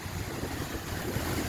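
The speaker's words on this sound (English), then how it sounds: "amazing marble waterfall" A marble waterfall fountain in Istanbul, Türkiye gives off a steady, broad rushing wash of falling water, fairly faint and continuous, roughened by wind buffeting the microphone.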